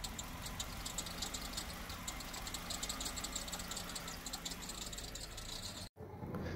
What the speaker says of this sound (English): after unplugging this MAF sensor, the engine still runs